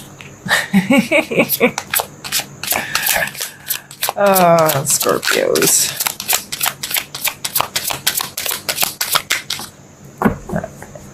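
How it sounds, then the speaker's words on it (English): Tarot cards are shuffled in quick, crisp riffling bursts and taps close to the microphone, with someone talking intermittently over the shuffling. "Can I shuffle?"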